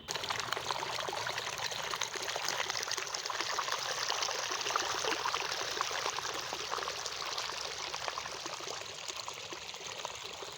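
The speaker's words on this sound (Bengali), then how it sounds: "স্বচ্ছ জলের কলতান" Clear water flows steadily past a mustard field in rural Bengal, a continuous close babbling murmur with no talk over it.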